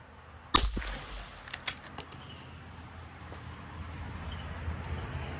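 A rifle fires one sharp, loud shot at a target outdoors, followed by a brief echo and a few light mechanical clicks before quiet ambience returns.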